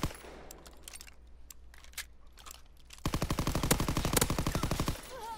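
Call of Duty gunfire in a 2v2 match on London Docks: scattered faint shots and footsteps, then a loud, rapid automatic burst of evenly spaced rounds lasting about two seconds.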